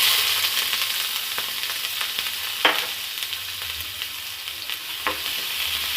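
Chopped onions fry in hot oil with popped mustard seeds for tomato thokku, a steady close sizzle with occasional scraping stirs and small pops, and no talking.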